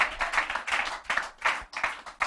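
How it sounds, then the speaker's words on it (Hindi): An audience in a Hindi church sermon claps together in a steady rhythm, several sharp bursts of hand claps roughly three a second, fairly close and with no talk over them. "ताली बजाकर यीशु को धन्यवाद दीजिए"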